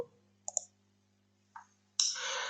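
Computer mouse clicks in a quiet room while opening a link in a new window: a quick double click, then a single click, and then a brighter burst of clicking that trails into a soft sustained sound.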